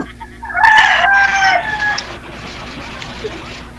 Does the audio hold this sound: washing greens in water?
no